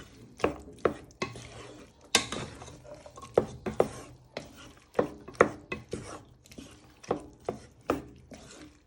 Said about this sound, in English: you want to give this a bit of a stir so it coats in